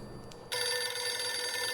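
A phone in the horror game Bloody Nights begins ringing abruptly after a quiet moment, a steady electronic ring holding on alone.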